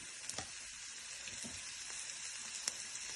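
Chopped ivy gourd pieces fry in a pan, giving a steady, close bright sizzle with a few faint stirring scrapes.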